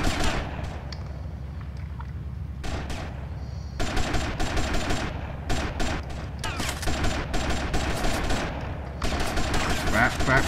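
Repeated bursts of machine-gun fire in GTA Vice City crackle in close, loud volleys separated by brief pauses, with some talk faintly underneath.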